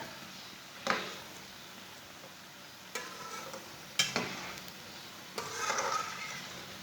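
Moong dal pakoras sizzle steadily in hot frying oil, with a few soft scraping stirs and clinks at irregular intervals as they are turned over.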